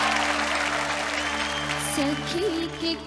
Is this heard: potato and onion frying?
no